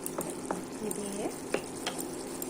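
Okra tossed and stirred in a hot pan, with soft scraping strokes and clicks over a low, steady frying sizzle, close and fairly quiet.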